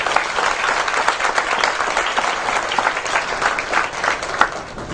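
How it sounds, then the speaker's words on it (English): An audience at an environmental congress plenary applauds the speakers, a dense, steady wash of many hands clapping at close range for the full stretch, with no voices over it. "Let's give them another round of applause."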